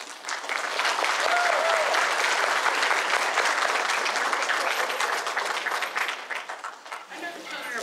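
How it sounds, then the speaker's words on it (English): Steady, dense applause from an evening court crowd at a children's archery tournament, honouring the winner. It is loud and continuous throughout and eases slightly near the end, with faint voices mixed in. "Everybody, to give him a round of applause."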